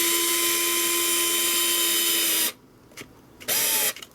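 Fanttik NEX L1 PRO electric screwdriver driving a larger screw into a new hole, a loud, close, steady motor whine for a couple of seconds, then a short pause with small clicks and a brief second burst.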